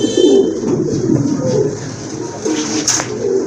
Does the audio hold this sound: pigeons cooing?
yes